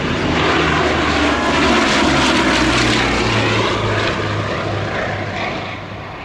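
Bristol Blenheim fighter, a WWII aircraft, flying at the 2022 Shuttleworth Vintage Airshow; its propeller engines give a loud, steady droning roar with a throbbing hum that swells slightly and then eases, with no voices.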